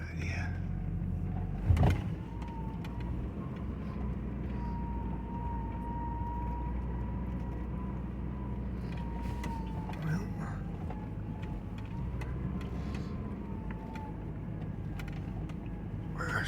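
Vehicle crawling down a rough hunting trail in Idaho, a steady low engine rumble with creaks and rattles from the body, a sharp knock early on, and voices talking over it.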